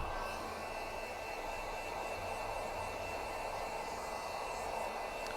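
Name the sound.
heat gun heating flooring material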